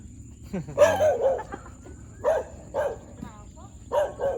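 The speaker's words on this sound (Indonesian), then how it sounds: "Sudah ada guguk" A dog barks in short bursts, several sharp woofs spaced across the clip, fairly close, with some background noise between.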